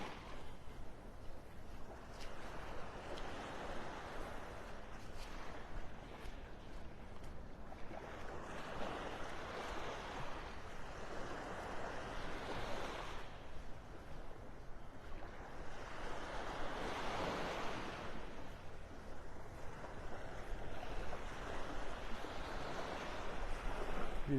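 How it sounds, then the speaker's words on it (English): Surf washes onto Vanderbilt Beach in North Naples, Florida, quiet and distant, in slow swelling surges blended with breezy wind noise and no talking. "Just about out of the park and on Vanderbilt Beach."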